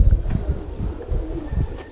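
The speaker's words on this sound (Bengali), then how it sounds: "এটা আমার কোবরা জেনারেশনের কবুতর।" Pigeons of a Bangladeshi fancy breed line, including young males, coo repeatedly in low, throaty pulses at close range, with a soft rhythmic rumble continuing throughout.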